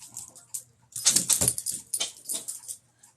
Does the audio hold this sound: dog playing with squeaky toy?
yes